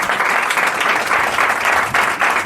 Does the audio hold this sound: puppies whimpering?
no